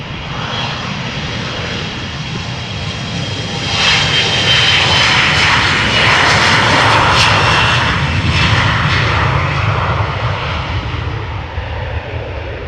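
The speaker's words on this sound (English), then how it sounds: "So this Embraer 175 is taking off to Stavanger." Embraer 175 jet taking off at Amsterdam Schiphol Airport, a loud continuous engine roar that swells and peaks midway, then slowly eases as the aircraft climbs away, without talk.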